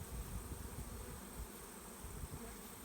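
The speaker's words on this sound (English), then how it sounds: "we've got all the bees in the hive" A honey bee swarm just moved into a 10-frame Langstroth hive gives a faint, steady, unbroken buzzing drone with no voices over it.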